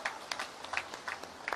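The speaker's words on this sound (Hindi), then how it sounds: "जोरदार ताली बजाओ" Crowd applause at a political rally in Charkhi Dadri, a steady dense patter of clapping that swells in brief bursts, moderately loud and with no speech over it.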